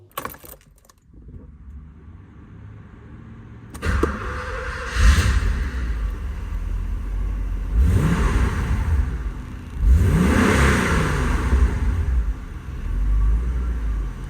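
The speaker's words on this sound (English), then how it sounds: "I've forgotten what a quieter normal exhaust sounds like on a 928" A Porsche 928 S4 V8 with a quieter stock exhaust starts after a few clicks, then idles with a deep rumble and is blipped in several loud revs, close up and with no talking.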